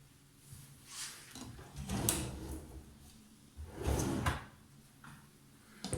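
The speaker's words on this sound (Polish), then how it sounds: "Szuflady oczywiście z cichym domykiem." Soft-close drawers in a newly fitted bathroom vanity sliding open and shut, two muted rolling glides each ending in a gentle cushioned stop, quiet and close.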